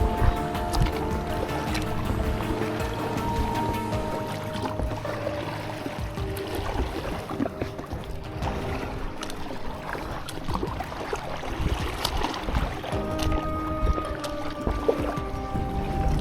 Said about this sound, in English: this is the most aggressive water I've been in. And it's really pushing me like to steer